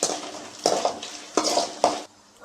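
Roasted peanuts are stirred in a pan on a medium flame while tamarind rice is being made, giving four rough scraping, rattling bursts with brief sizzling pauses between them, close and fairly loud.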